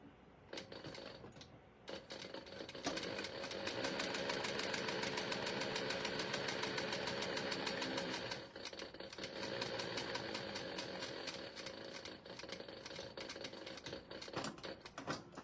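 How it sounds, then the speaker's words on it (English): Sewing machine top stitching along the top edge of a leather crossbody bag, a rapid mechanical rhythmic stitching chatter, steady and close, with a short pause early on. "So I'm going to top stitch across the top edge real quick."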